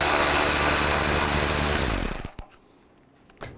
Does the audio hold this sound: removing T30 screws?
yes